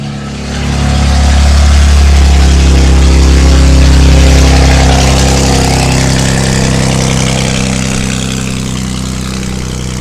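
A K-swapped Civic EG with a K20Z1 engine runs loud on a cold start, a steady deep idle rumble that swells up in the first second and holds strong and close throughout with no voices.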